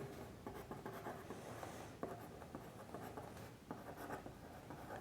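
Pen scratching across paper while a compound interest maths solution is written out by hand, steady rapid strokes with short pauses, close and moderately quiet, no talking.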